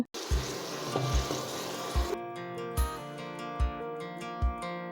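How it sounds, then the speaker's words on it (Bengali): Chopped onions fry in oil with bay leaves, giving a loud, bright sizzle close by for about two seconds. Then a quieter, tonal backdrop takes over, marked by regular soft thumps. "এবার এই তেলের মধ্যে কিছু কুচি করা পেঁয়াজ দিয়ে দেব।"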